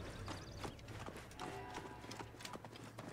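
Horse hooves clip-clop in Assassin's Creed Origins, a busy run of close, crisp hoof knocks over a low ambient game background.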